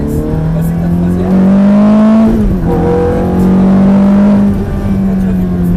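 A Ferrari F430 accelerating hard on a racetrack, its loud engine note climbing steadily, dipping briefly at a shift into third gear, then rising again close and constant.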